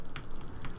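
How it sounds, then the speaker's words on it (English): A computer mouse in a Minecraft Factions session gives two quick, close clicks about half a second apart over low background hiss. "All I hear is your mouse clicking."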